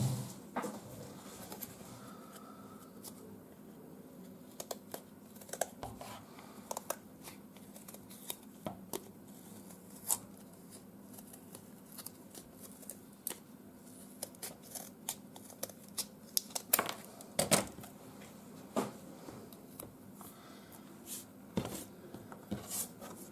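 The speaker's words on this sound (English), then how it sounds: "I get the chipboard and I just cut it down to size." Chipboard is cut down to size for a postmark stamp, giving a long run of scattered, uneven cutting and scraping sounds with sharp clicks and rustles, close and fairly quiet, with no talking.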